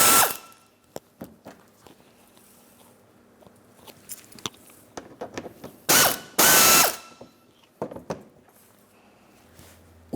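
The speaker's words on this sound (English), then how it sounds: "Let's go ahead and remove this hardware. So I've got my Phillips head, small ratchet." Small ratchet with a Phillips bit clicking in rapid bursts as it backs out screws from a damaged headlight assembly on a 2008-2016 Chrysler Town & Country, close and distinct with brief louder mechanical scrapes.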